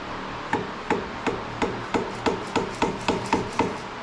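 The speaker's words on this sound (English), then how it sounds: "take this dead blow hammer and lightly tap right here" Steady, evenly spaced taps from a dead blow hammer strike a metal shaft on a Walker mower about twice a second, a dozen dull knocks in a row, close and fairly quiet.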